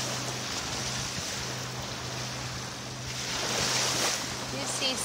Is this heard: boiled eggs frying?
no